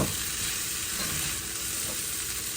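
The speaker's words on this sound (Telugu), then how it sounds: "చూడండి చిక్కుడుకాయని కొద్దిసేపు వేయించాము" Broad beans (chikkudukaya) fry in a pan with a steady, close hiss and crackle that keeps an even level throughout, with faint stirring under the sizzle.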